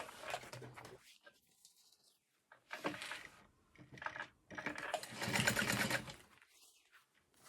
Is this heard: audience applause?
no